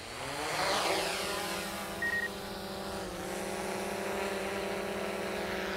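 A camera drone spins up its propellers and takes off for real estate photography, a loud rising whine with layered harmonic buzz that swells, dips and then settles into a steady hovering drone.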